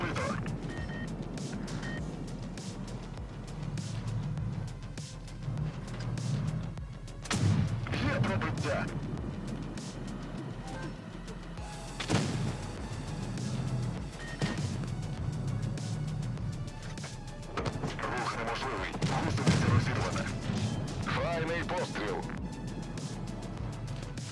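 Heavy tank cannon blasts and crashing impacts in a tank battle video game, recurring every few seconds amid engine rumble, with a person talking throughout.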